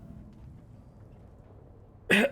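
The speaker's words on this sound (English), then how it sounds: "Cough, cough." A single short, sharp cough bursts out near the end after a stretch of quiet background hum.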